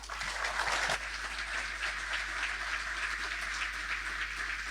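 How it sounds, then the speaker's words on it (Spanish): An outdoor field-day audience in Corrientes applauds engineer Adrián Bifaretti with steady, moderately loud clapping that starts with a few sharper claps and then holds even over a constant low hum. "Fuertes aplausos, por favor, para el ingeniero Adrián Bifaretti."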